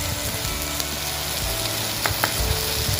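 Ginger, garlic and tomato paste with turmeric frying in hot oil in a pan, a steady close sizzle with a few stirring scrapes near the end.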